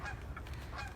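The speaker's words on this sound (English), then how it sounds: "Oh, and oh, isn't that beautiful? Look at those birds" Birds honk like geese outdoors in the early morning, a few faint nasal honks over a low, steady outdoor rumble, with no talking.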